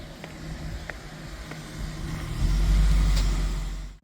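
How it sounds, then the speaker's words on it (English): A 1994 Jaguar XJS V12 facelift idles nearby with its radiator fan whirring, a low steady hum that swells louder in the last seconds before cutting off abruptly. "I can hear a car with a radiator fan. The unmistakable sound of a V12."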